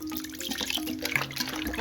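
Cassava flakes are rinsed by hand in water for a third wash, a brief burst of close sloshing and dripping splashes.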